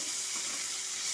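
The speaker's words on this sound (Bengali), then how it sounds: "হলুদ দিয়ে পেঁয়াজ, শুকনো লঙ্কা, কাঁচা লঙ্কাকে একসাথে আমি ভালো মতো করে ভেজে নিচ্ছি।" Chopped onion with slit green chillies and dried red chillies frying in oil in a pan with turmeric, a steady close sizzle with no voices.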